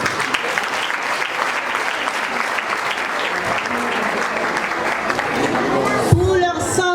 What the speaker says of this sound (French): Nous vous demandons à l'assistance en triomphe d'applaudir l'équipe de la pupille.